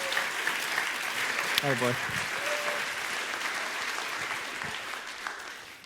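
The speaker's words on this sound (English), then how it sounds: "Why don't you give a round of applause for Phil and what he's doing up at Sun Peaks?" A church congregation applauds steadily for several seconds, a broad even wash of clapping with a brief spoken exclamation early on.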